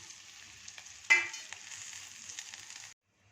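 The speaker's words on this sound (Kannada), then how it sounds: "ನೋಡಿ ಇಷ್ಟು ಫ್ರೈ ಆದರೆ ಸಾಕು." Onion, curry leaves and garlic frying in a pan, a steady sizzle with a sudden louder burst as they hit the hot oil, then a continuous crackle that cuts off abruptly; no talking.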